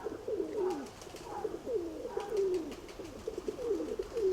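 Pigeons coo repeatedly in throaty, rolling calls, several birds overlapping in a steady rhythm at moderate distance, with no voices present.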